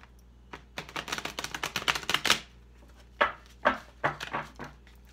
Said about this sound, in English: And I'm gonna shuffle her up for you.